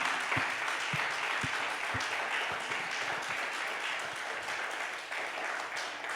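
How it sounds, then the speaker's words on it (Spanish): Church congregation applauding during worship: a steady, moderately distant wash of many hands clapping that carries on for several seconds, with a few lower thumps scattered in the first half. "Dele un fuerte aplauso al Señor Jesús."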